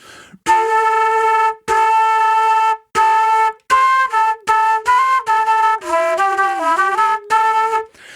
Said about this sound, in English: I'm kind of doing that while blowing across the flute.